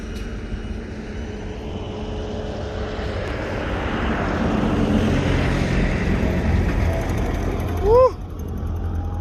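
A Black Bae Hawk RC model airplane flies on its maiden flight, its engine drone building and fading steadily, with a sharp rising whine near the end.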